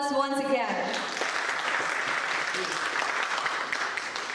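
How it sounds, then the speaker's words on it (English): At the BusinessLine Agri and Commodity Summit 2024, a large conference audience breaks into loud, sustained applause that quickly swells to a dense wash of clapping, with a voice over a speaker system fading out at the start. "let us begin our BusinessLine Agri and Commodity Summit 2024 with a thunderous round of applause once again"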